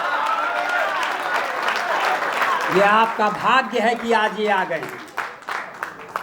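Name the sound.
audience applause for a singer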